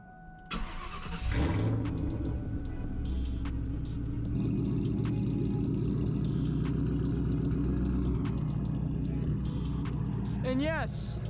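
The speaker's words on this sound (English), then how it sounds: "And yes, sound warning, it is straight piped" A straight-piped 2000 Mustang GT with an automatic transmission cranks and fires, then settles into a loud, steady, lumpy idle rumble close to the listener, with a brief chirp near the end.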